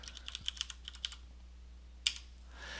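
Light taps on a computer keyboard, a quick run of keystrokes followed by a pause and one firmer key press, close and quiet with no talking.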